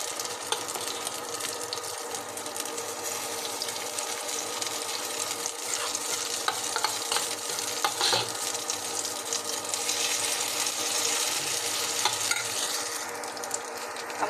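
Fish roe fritters frying in hot oil make a steady, bright bubbling sizzle, loud and close, with faint scattered crackles and light clinks over the constant hiss and no voices.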